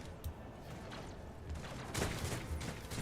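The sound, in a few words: gunfire in a video game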